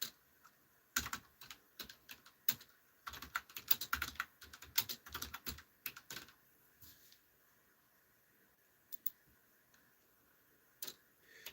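Typing on a computer keyboard, with bursts of quick, irregular key clicks up close that pause and then resume as a few scattered taps near the end.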